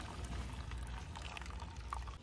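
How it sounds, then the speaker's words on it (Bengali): Starch water strained through a cotton cloth, a steady faint trickle and splash of liquid running continuously without pause. "এই সুতির কাপড় দিয়ে ছেঁকে নেব। এবারে ভালো করে এইভাবে নেড়ে নিলে দেখুন কত সুন্দরভাবে পড়ছে।"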